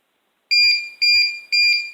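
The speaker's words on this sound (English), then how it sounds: "Now you can see the page is beeping. Now it'll continue to beep until it's cancelled." A Call Easy pager alarm sounding three sharp electronic beeps at even half-second intervals, each a loud, bright two-tone chirp, close and alone after a moment of silence.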